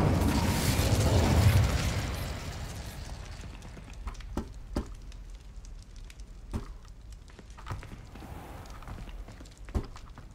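An Incendio fire spell cast in a cave in Hogwarts Legacy erupts as a loud, broad roaring burst for about two seconds, then fades into quieter ambience punctuated by sparse sharp clicks and taps.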